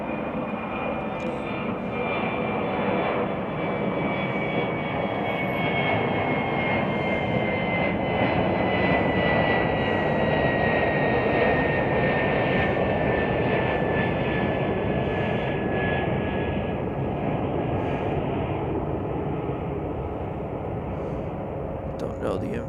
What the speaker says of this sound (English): As we got another departure here. Looks like it's United Express.